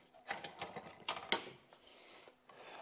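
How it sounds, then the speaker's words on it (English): A bolt holding the steering column to the rack on a Ford GT40 race car is undone, giving a short run of close, quiet ratcheting clicks followed by one sharp metallic snap. "undoing the bolt which holds the steering column to the rack"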